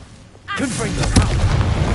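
A Confringo blasting spell bursts in Hogwarts Legacy, a sudden loud boom at the half-second mark that swells into a sustained roaring rumble, with a voice speaking over the start.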